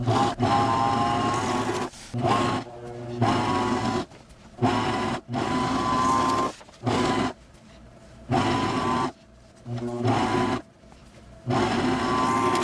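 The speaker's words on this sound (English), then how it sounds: "I'm going to use my serger, and we're just sewing at a 3/8 seam allowance" Serger motor sewing a 3/8-inch seam in knit fabric, running in repeated bursts of whirring stitching, starting and stopping with short pauses between runs, close and fairly loud.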